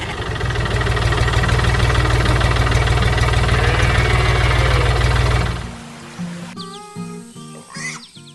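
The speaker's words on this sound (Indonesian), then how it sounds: "Suara mesinnya menggelegar, menggerakkan petani untuk bekerja dengan semangat." A loud, steady tractor engine chugs with a low, throbbing rumble, then cuts off abruptly, leaving a few quieter clanks and mechanical noises, on a farm.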